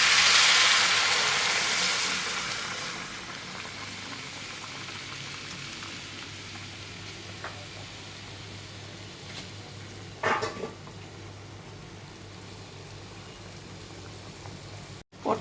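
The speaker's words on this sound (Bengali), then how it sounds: "ঝোলটা আমার টকবক করে ফুটছে" Curry broth bubbles in a pan after hot water is poured in, a soft continuous boiling hiss that is louder at first and then settles, with a few brief clinks.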